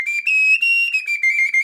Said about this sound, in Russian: вот такая вот кубанская свистулька